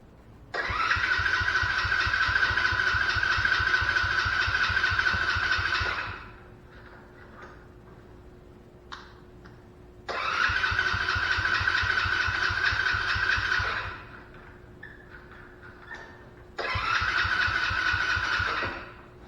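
Tao Tao 125cc Chinese ATV engine cranking over in three long starter bursts of several seconds each, loud and close, with quiet pauses between attempts and no catch.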